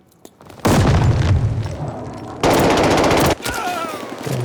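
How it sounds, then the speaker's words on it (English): Gunfire and explosions in the shooter game Call of Duty Vanguard on the Fortress map: loud bursts of automatic fire and heavy booms in quick succession, close and harsh, with a brief game voice line near the end. "Incoming grenade."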